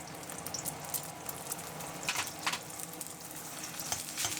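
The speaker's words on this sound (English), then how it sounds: "Add the beaten egg and immediately follow it with the rice." Beaten egg and rice frying in lard in a hot wok for ramen-house style chahan, a steady close sizzle with a few brighter crackling bursts and light scraping.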